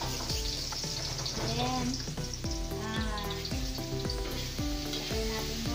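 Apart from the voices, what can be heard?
garlic sizzling in a frying pan for pinakbet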